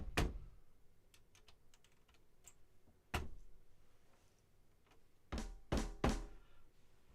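A short trimmed kick drum sample is auditioned during a live beat-making session, with several separate punchy thumps, two early hits and a quick cluster near the end, among quiet clicks.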